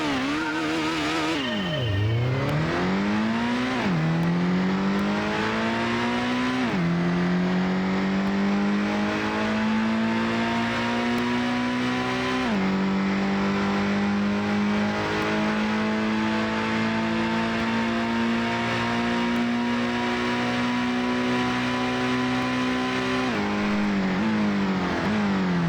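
Engine of a faster race car in the video game Gran Turismo, a loud continuous drone that climbs through the gears, with pitch sweeping up and dropping at each shift over almost half a minute.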